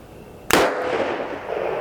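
A Hopkins and Allen XL double-action pocket revolver, over 100 years old, fires a single loud, sharp shot fired double action, followed by a decaying tail that lingers.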